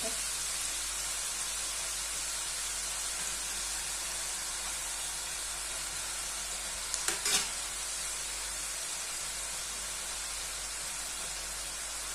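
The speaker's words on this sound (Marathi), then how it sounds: "अशा पद्धतीने छान असे खरपूस सगळे खाऱ्या शंकरपाळे आपण तळून घेऊयात" Thin savoury shankarpali dough pieces deep-fry in hot oil with a dense, steady hiss and sizzle, broken briefly by a short clatter of a slotted spoon.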